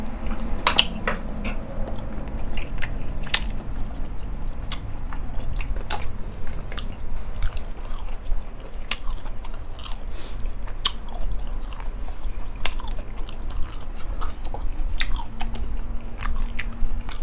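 Someone eats raw shrimp soaked in fish sauce with garlic and basil, with close, loud wet chewing and repeated crunchy bites in a steady rhythm and no talk.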